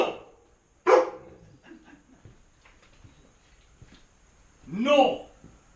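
A dog barks a couple of times close by, with people talking around it and a louder outburst near the end.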